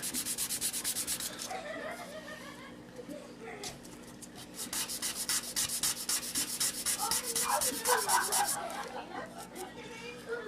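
Sandpaper rubbed back and forth over the cut edges of a cardboard rocket body tube, a steady close scratching rasp in quick repeated strokes that pauses briefly, then resumes louder.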